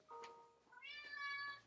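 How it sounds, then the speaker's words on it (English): A pet cat meowing indoors, one short rising cry followed by a longer, clear, tonal meow, close and fairly soft, with no talking over it. "He's gonna sit there and meow the whole time if I don't."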